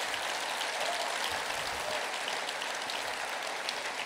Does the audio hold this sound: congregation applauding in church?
yes